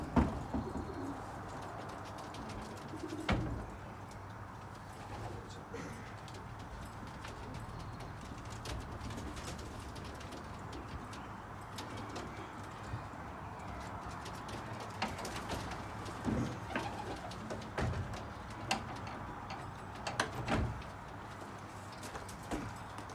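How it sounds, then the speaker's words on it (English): Stock racing pigeons, four cocks and two hens, coo softly inside a loft, with steady low murmuring and occasional sharper rustles and thumps from the birds moving about. "I'll just get a few of these stock pigeons."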